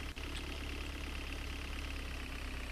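A vehicle engine runs steadily while driving in a video game, a constant mid-low hum with no breaks apart from one faint click near the start.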